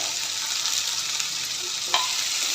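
Onion and chopped tomato fry in a pan for anda bhurji, a continuous close hiss of sizzling oil with one brief utensil scrape as the mixture is stirred, and no speech.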